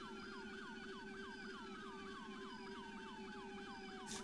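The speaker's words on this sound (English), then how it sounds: "Because I still hear sirens." Wailing sirens in a video game sweep up and down continuously at a distance, steady and fairly faint, with no talking.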